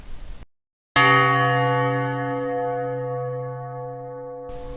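A church bell at an abbey strikes once after a brief silence, its rich, resonant tone ringing out loud and close and slowly decaying over several seconds.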